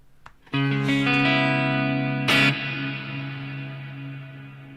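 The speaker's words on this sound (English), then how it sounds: "Hopefully you can hear some reverb there." Electric guitar played through a reverb effect unit, a single strummed chord ringing out and decaying in a long shimmering tail, a second sharp strum partway through, with no talking.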